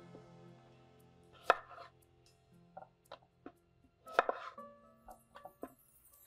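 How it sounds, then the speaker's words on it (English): A knife cuts baby potatoes in half on a board, giving a few sharp, separate chops spaced irregularly, with two louder strikes among lighter taps in a quiet kitchen. "I'm just gonna cut them in half."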